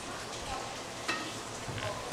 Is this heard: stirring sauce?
yes